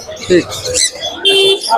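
Caged pet birds at a bird market give bursts of chirps, tweets and soft cooing close by, mixed with people talking.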